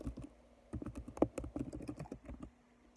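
Rapid, irregular keystrokes on a computer keyboard as a message is typed into a chat during an online class, with close, crisp clicks in uneven bursts and a steady faint hum underneath, no voices present.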